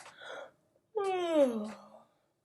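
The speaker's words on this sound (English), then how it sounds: "Amos yawned." A yawn-like exhale with a rising then falling moan, drawn out for about a second after a short breathy sound, close and clear with no other noise.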